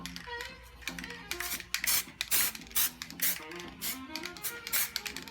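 A gold spray paint can spatters over an acrylic abstract painting in short bursty hisses, several loud sprays in quick irregular succession. Clicks and tonal background sounds run underneath.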